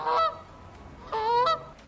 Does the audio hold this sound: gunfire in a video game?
no